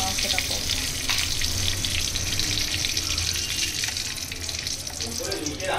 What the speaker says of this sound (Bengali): আলুগুলো ভেজে নিয়েছি।